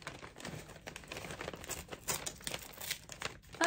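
Paper mail envelope carefully opened by hand, with steady crinkling and soft tearing rustles running throughout, close and fairly quiet, with no talking.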